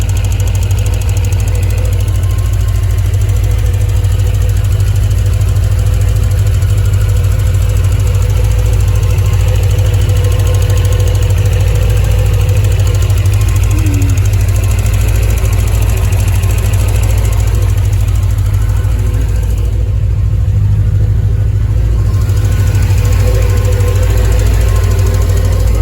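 A Paxton-supercharged C4 Corvette 5.7 TPI ZZ3 engine on first start, idling steadily and loud with a constant low rumble, a faint ticking clatter from noisy injectors over it throughout.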